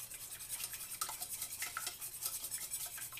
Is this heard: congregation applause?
no